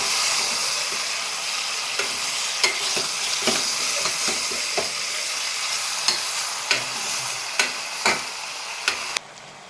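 Mutton frying in a pan, with a steady loud hiss and sizzle, repeated scraping strokes of a spatula, and a run of sharper knocks against the pan toward the end before the sound cuts off.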